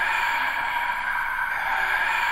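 A looped crowd-noise sample played back without any equalizer, a steady dense wash of many voices with full low end, continuous and even for the whole stretch.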